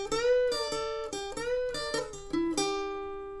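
Solo electric guitar plays part 3 of the solo, a short melodic phrase of plucked notes with bends and pull-offs, clear and close with no talking.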